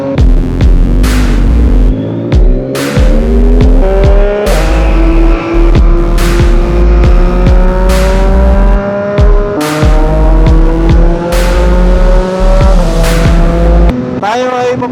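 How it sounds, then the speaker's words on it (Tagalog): A Yamaha MT-09 motorcycle revs hard while warming its tires, loud engine pulses rising and falling in repeated bursts with a brief gap between each, heard up close with no talk over it. "Painitan ng gulong habang walang dumadaan."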